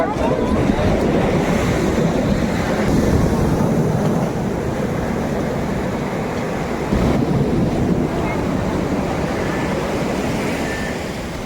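Sea waves breaking on a fishing shore, a steady loud roar of surf churning and washing in, with wind buffeting the microphone throughout.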